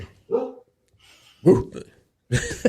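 A dog barks in a podcast studio, several short separate barks spaced apart, near and fairly loud with little else around them.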